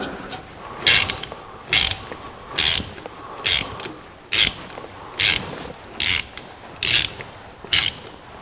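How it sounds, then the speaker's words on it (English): A ratchet wrench driving a clamp bolt into an engine, heard as about nine short, bright bursts of rapid clicking spaced roughly a second apart, close and loud, with no talking. "Put our clamp back in place and screw the bolt in."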